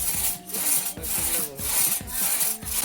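Agarwood tree wood being cut and chipped by hand, with steady back-and-forth sawing strokes and woody rubbing scrapes repeating about every half second, close and loud with no talking.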